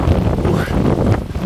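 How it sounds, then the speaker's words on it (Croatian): Strong wind buffets the microphone in a steady, loud rumbling roar on an open square in Marrakesh, Morocco, with no clear voice. "Duva vjetar šestoko, naravno, to čujete."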